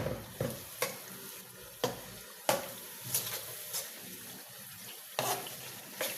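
Chicken and potatoes frying in gravy in a pan at medium heat, with a steady close sizzle broken by repeated sharp scraping stirs of a spoon against the pan, no talking.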